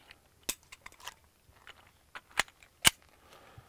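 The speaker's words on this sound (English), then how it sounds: "Go ahead and reload." Handgun reload during a timed shooting-standards drill on a range: a series of sharp metallic clicks and snaps, two louder crisp clacks near the end, close and dry with no talking.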